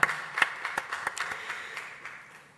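A church congregation claps during a Sunday worship service, a burst of quick, irregular hand claps that starts sharp and fades gradually over a couple of seconds, with no talking.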